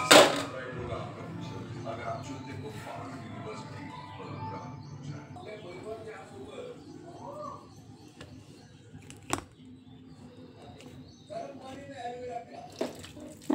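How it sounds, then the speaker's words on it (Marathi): Raw karvand berries being rinsed in a vessel of water, with soft splashing and sloshing under someone speaking, plus a couple of sharp knocks and faint birdsong in the background. "आणखी 2 पाण्याने स्वच्छ धुवून घेऊया आपण हे करवंद."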